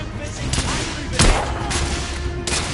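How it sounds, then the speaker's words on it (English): Heavy gunfire in a Victorian-era London shooter, with dense rifle and pistol shots crackling in bursts near and far and one louder blast midway, forming a continuous battle din. "Taking heavy fire!"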